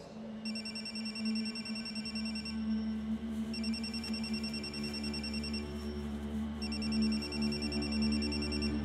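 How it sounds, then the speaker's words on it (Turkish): A mobile phone rings with a repeating electronic tone in bursts, steady and fairly close, over a low droning background hum. "Bunu açmam lazım. Telefonu çıkar ama yavaşça."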